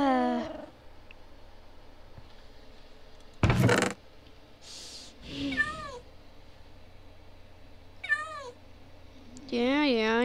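Several clear, high video-game cat meows in short bursts with pauses between, plus one loud sharp noise burst partway through.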